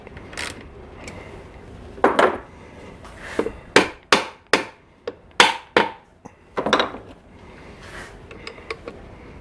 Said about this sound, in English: You don't have to hit it hard, you're just using a little bit of pressure with the plastic hammer.